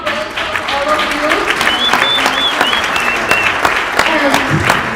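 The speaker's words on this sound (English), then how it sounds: "let's together to give a big applause to all of them" Audience applause fills a large event hall, steady and dense for the full stretch, with whoops and voices calling out over the clapping.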